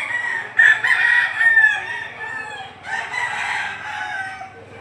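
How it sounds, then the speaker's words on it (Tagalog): Roosters crow at a gamefowl market in Lipa City, Batangas, in loud, overlapping calls close by, with one bird crowing and others answering in two main bursts. "Pumasok tayo sa loob para sumilip dito ng mga manok dito sa loob."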